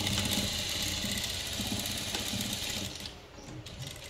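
A picot sewing machine stitches a zigzag seam on a small child's frock with a continuous close mechanical whir and rapid needle ticking, easing slightly toward the end.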